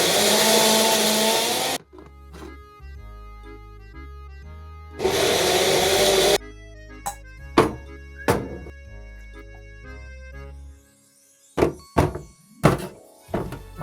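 A mixer grinder grinding curry masala for chicken curry runs in two loud bursts of whirring, separated by quieter kitchen thunks, knocks and clatter of utensils.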